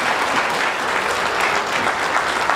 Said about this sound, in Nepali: ताली बजाउन चाहन्छु।